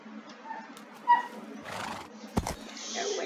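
A horse in the Minecraft video game neighs with a sharp whinny near the start, followed by softer hoof clip-clop and game ambience, with no talking.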